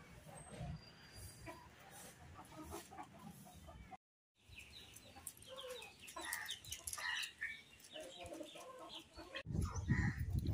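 Household chickens cluck and fuss in a rural Bengali village yard, with intermittent close calls over a faint outdoor background. The sound drops out briefly, then the clucking resumes, and a voice can be heard at times.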